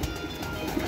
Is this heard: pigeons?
yes